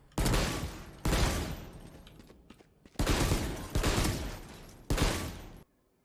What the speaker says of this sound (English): if I hold down mouse 1, it just shoots 1 burst and then it stops shooting